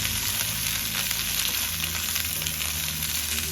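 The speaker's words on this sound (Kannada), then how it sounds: "ಎಣ್ಣೆ ಜಾಸ್ತಿ ಬೇಡ ಅಂದ್ಬಿಟ್ಟು ಹಂಗೆ ಹುರ್ಕೊತಾ ಇದ್ದೀನಿ" Okra, cut into long strips, frying in a small amount of oil in a pan, giving a steady, close hiss and crackle that holds evenly throughout with no talk.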